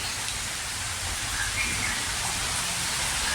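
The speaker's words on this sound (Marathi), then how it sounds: "आज खरं तर पहाटेपासूनच भरपूर असा पाऊस आहे" Heavy rain pours down in a dense, continuous roar, loud and unbroken from start to finish.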